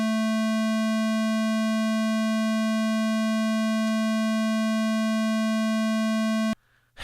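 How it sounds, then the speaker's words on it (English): A single steady sine test tone, rich with harmonics from analog-style saturation, holds loud and unchanging for about six and a half seconds, then cuts off abruptly into near silence. "Because we just have that singular sine wave there"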